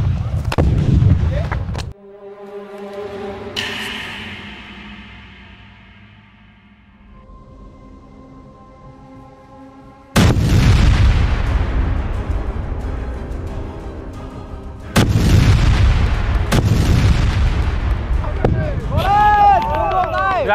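Loud explosions and heavy booms go off during military training, arriving as several sharp, broadband blasts separated by quieter stretches, with voices and movement audible in between.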